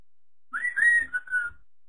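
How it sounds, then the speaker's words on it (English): A person whistles a short wavering tune, a few clear rising and falling notes, close and alone against silence. "I don't need to serenade you by whistling"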